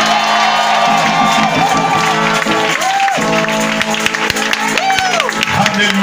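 Church congregation cheering, whooping and applauding, a loud continuous wash of claps with rising shouts and voices calling out over it.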